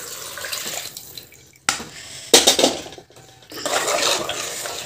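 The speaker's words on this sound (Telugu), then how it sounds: "మటన్ ఉడికించిన వాటర్ ఇవి కూడా వేసేస్తున్నాం." Water left from boiling mutton is poured into a pan of mutton curry in a home kitchen, giving a close splashing, gushing pour in a few uneven bursts with short pauses between.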